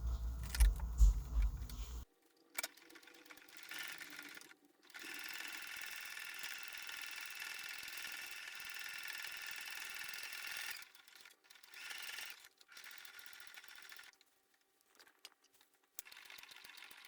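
A sewing machine top stitches a denim crossbody bag made from camouflage shorts, its fast steady whir running for several seconds at a time, broken by short pauses between passes.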